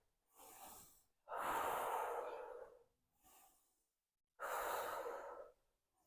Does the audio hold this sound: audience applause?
no